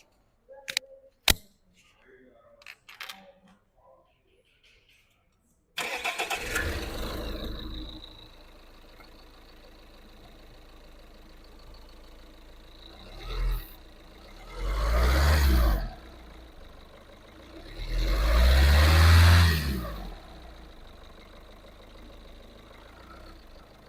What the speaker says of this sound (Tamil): இப்போ வந்து நம்ம வண்டியோட இன்ஜின் வந்து ரெவ் பண்ணி காட்டுறோம்.